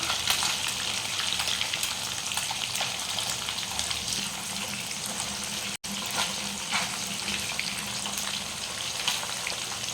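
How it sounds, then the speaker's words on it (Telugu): Bone-in fish pieces fry in hot oil with a dense, continuous hiss and crackle, steady and close throughout with no voices. "చేప ఇలా వేసుకున్నాం కదండి ఆయిల్లో వెంటనే కలపకూడదు"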